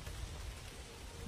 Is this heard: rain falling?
yes